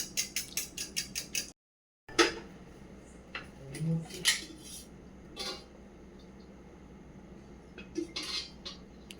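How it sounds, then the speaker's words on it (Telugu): Eggs with a pinch of salt and turmeric are beaten in a bowl, a quick run of sharp rhythmic clinks of a utensil against the bowl, then a short pause and scattered lighter taps and scrapes, close and fairly quiet. "కొంచెం సాల్ట్, దీన్ని బీట్ చేసుకోవాలి."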